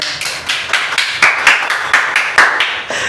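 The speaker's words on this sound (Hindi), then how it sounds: "ताली हो जाओ इसके लिए सब," A classroom of students claps in a quick burst of about ten sharp, fairly loud hand claps, evenly paced and close by, with no talking over them.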